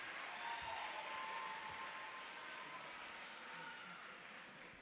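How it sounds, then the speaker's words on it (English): An audience at a university scholarship pageant applauds a contestant being introduced, a steady, moderately distant wash of clapping that holds throughout and fades gently toward the end. "please give a round of applause for Miss Ebony Watts"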